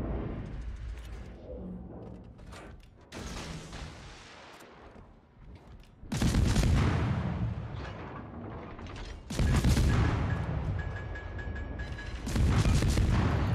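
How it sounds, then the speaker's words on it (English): Naval guns fire in World of Warships during a battle with a Pan-Asian destroyer, giving heavy booming salvos that swell into loud, dense rumbling blasts with mechanical creaks between, close and full. "then we can continue shooting the Pomern"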